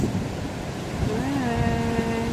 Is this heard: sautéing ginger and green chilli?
no